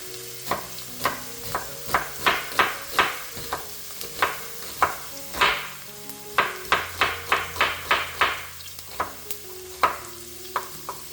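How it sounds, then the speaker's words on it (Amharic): Onions frying in olive oil in a pan for a spinach and chicken salad, a steady sizzle broken by repeated scraping stirs at an uneven quick rhythm, close and alone. "ኦሊቭ ኦይል አድርጌ ያለው ከዛ ሽንኩርት አደርግና ሽንኩርቱን ጠበስ አደርገዋለሁ።"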